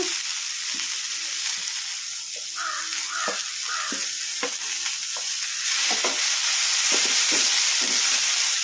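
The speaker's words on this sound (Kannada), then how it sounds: "ಈಗ ಇದಕ್ಕೆ ಮೆಂತ್ಯ ಸೊಪ್ಪು ಹಾಕೋಣ." Fresh fenugreek leaves are stirred into hot oil with fried green chillies while making tomato chutney. A steady sizzle runs throughout, with scraping stirs of the spoon in the pan and the frying growing louder near the end.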